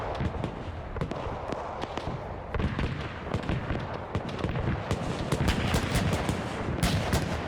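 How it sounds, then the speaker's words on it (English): An anti-aircraft gun fires in the video game Arma 3 during a large World War II battle: a dense, continuous stream of rapid shots and booming blasts that stays loud and steady throughout. "AA gun firing"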